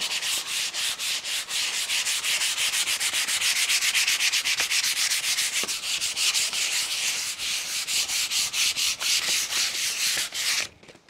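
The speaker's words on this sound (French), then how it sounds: "c'est bien de poncer un peu" Rapid back-and-forth sanding of a dried oil painting surface, a continuous rhythmic scratchy rasp, close and loud, stopping abruptly at the end with no talking.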